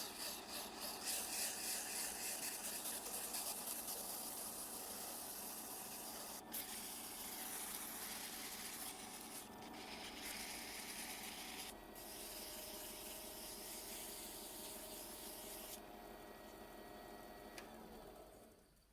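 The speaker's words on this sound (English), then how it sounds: "This sandpaper in my hand right now is 120 grit, and we're going to sand it all the way up to 400 grit." Sandpaper, going from 120 up to 400 grit, rubs against wooden pen blanks spinning on a lathe, making a steady, close, hissing scratch that carries on without a break and with no talking.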